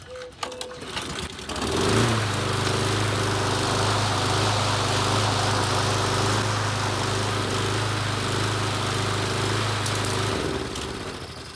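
An Ariens lawnmower engine catches after a few rough sputters and runs at a steady, loud buzzing drone close by for several seconds before winding down.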